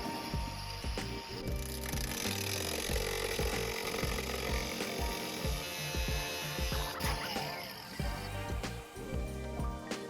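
An angle grinder works on a 1982 Toyota pickup, cutting in a run of loud, uneven bursts with a gritty whine and rattling chatter, all close by with no talk.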